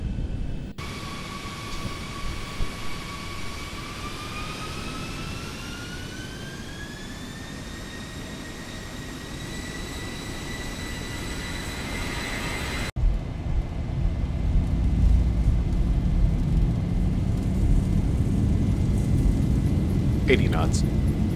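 Simulated Boeing 737 jet engines spooling up in a flight simulator, a rising turbine whine climbing steadily in pitch and then holding, followed by a broad louder roar with rumble as thrust builds, while a voice talks over it.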